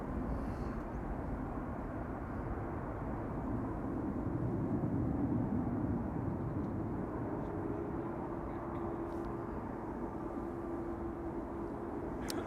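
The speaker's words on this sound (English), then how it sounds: "EasyJet taking off" A steady, fairly faint broadband roar of an EasyJet airliner on its take-off run at Amsterdam Schiphol, a constant distant rumble holding evenly throughout.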